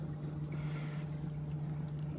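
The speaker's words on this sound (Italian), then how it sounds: "motore di prua." A small electric bow trolling motor on a fishing boat on the Po river hums steadily, a low continuous drone with faint water trickle around it, quiet and close.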